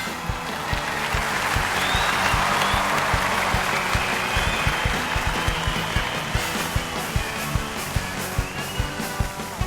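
Applause from a studio audience of a Turkish comedy-talk show greeting a singer as he comes on stage: dense, sustained clapping with rhythmic sharp claps over a steady crowd wash, loud and close, without talk.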